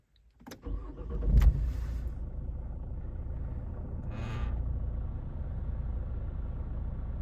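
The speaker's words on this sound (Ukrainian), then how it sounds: "Давайте заведемо нашу машинку." A 2011 Opel Astra J petrol car engine cranks briefly and catches, then settles into a steady, low idle rumble heard close up, with a faint whine in the middle.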